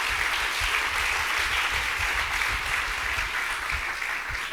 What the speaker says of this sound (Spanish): Denle un fuerte aplauso de alabanza a Jesucristo.